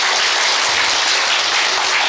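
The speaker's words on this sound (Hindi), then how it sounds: "तो ताली हमारे लिए ना बजाइए, अपने लिए जोर से बजाइए।" Audience at a talk on multi-layer farming clapping loudly, a dense, even roar of many hands that fills the whole moment without a break.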